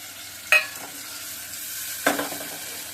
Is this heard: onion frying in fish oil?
yes